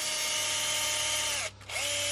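Power drill with a 2.5 mm bit boring into nylon, a steady high-pitched whine that stops briefly and then spins back up, loud and close.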